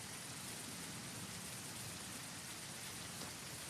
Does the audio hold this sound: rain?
yes